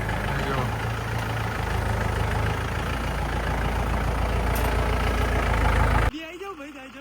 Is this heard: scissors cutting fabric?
no